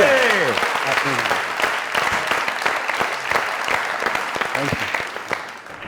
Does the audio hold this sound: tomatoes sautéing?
no